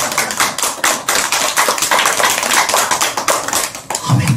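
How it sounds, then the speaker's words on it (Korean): A church congregation applauding, a dense, fairly loud patter of many hands clapping steadily for several seconds. "박수."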